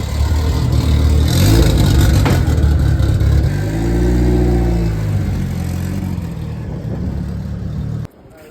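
A 450 hp Ford Focus ST engine revs hard on a dyno, a loud sustained roar climbing and falling in pitch with one smooth swelling rev in the middle before cutting off abruptly near the end.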